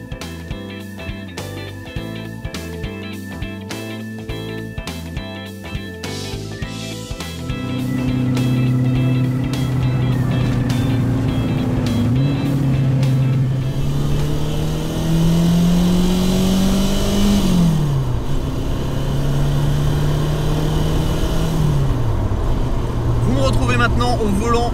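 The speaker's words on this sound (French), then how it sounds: "Maintenant au volant d'une R5 Turbo 2." A Renault R5 Turbo 2 rally car accelerating hard, its engine note climbing and falling through gear changes, loud and close after a quieter opening stretch of music-like tones.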